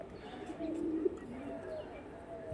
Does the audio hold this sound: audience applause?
no